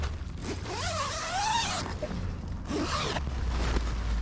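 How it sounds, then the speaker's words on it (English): A tent door zipper is pulled in two long, rasping strokes, close and clear, with a short pause between them. "Something you can open with one hand on a zipper on a tent."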